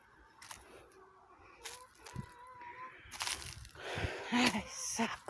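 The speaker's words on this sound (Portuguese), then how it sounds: "Eu ouvi que nem as galinhas faz, sabe? Quando coloca o ovo." Hens cackle a few times after laying an egg, faint and some distance off, mixed with close rustling and handling noises that grow louder toward the end.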